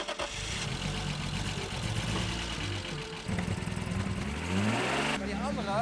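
A BMW engine cranks and catches after its fuel pump is hot-wired, then settles into a rough idle and revs up, loud and close, with people talking over it.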